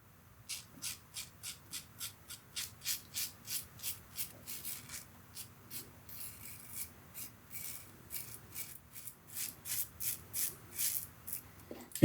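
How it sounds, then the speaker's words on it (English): Short repeated scraping strokes of a Mühle R41 safety razor with a Feather blade cutting nine-day stubble, close and rhythmic, roughly two strokes per second with brief pauses between runs. "if I do the short stroke kind of shaving technique"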